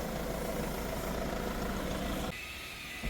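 A 2015 Peugeot 508 Allure with a 2.0 HDi diesel engine idles in a steady, even drone, heard up close, then the level drops abruptly near the end as the sound becomes quieter and thinner.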